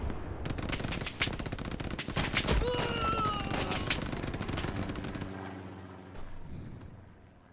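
Rapid automatic gunfire rattles in dense bursts during a Hell Let Loose battle at Sainte-Marie-du-Mont, loud and continuous for several seconds before cutting off, with a few scattered shots afterward and a voice speaking briefly.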